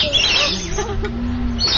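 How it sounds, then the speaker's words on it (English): Birds at Cebu Safari in the Philippines give a few clear chirps and calls, fairly close, over background crowd murmur. "Amazing birds."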